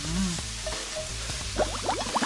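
Carrots with a little salt are stir-fried in a hot pan for bibimbap, a continuous close sizzle with scraping and tossing sounds from stirring.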